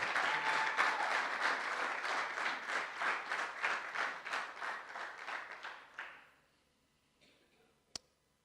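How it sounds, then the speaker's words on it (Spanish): A church congregation claps in rhythmic unison for about six seconds, then the applause fades to near silence before a single sharp click. "Se le va a dar un aplauso de él al Señor."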